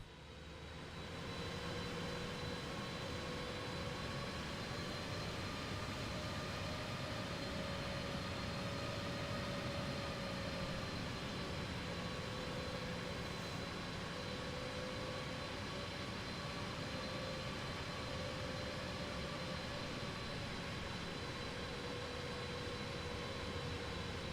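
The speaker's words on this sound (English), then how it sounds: "he's going to be taking off this runway here and then turning out to the left" A PMDG 777F freighter aircraft taking off in Microsoft Flight Simulator 2024, a steady loud jet engine roar with a sustained whine that holds throughout, no talking.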